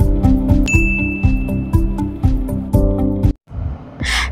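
Bright ringing notification bell ding sound effect, struck repeatedly in a steady rhythm with a melodic chime run, loud and close, ending in a short sparkling tail.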